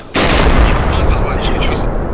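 Tank exploding in the military game ArmA 2 (ACE mod): a sudden heavy blast bursts in after a quiet moment, then a long rumbling, crackling decay, loud and close.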